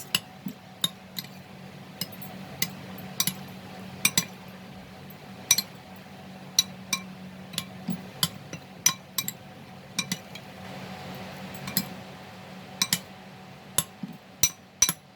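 A spoon clinks repeatedly against a bowl while prawn masala is mixed with turmeric powder, sharp metallic taps in an irregular rhythm over a faint low hum, close and fairly quiet.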